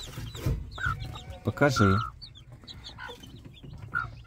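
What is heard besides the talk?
hen clucking with newly hatched chicks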